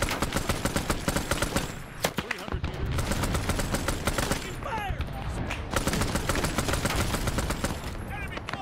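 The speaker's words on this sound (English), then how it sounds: "Under fire! Taking fire!" Vietnam War gunfire in SOG on the Ground: sustained automatic bursts with rapid, rhythmic cracks, loud and close, nearly continuous with brief pauses and a distant crack or two, with a voice talking over it.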